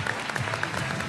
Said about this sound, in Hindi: बहुत सारी तालियां बजा दें